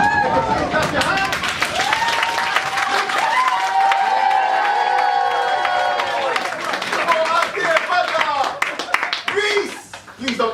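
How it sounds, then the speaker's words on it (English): An audience at a live event claps hands together amid crowd cheering and chatter, a dense continuous patter filling the room before fading toward the end. "Clap your hands."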